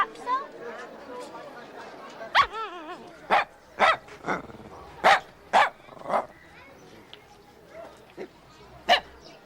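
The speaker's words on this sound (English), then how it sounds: "Isn't this, what do you call it? Lhasa Apso?" Lhasa Apso dog yapping in a string of sharp, close barks mixed with whines and growls, while people talk over and between the barks.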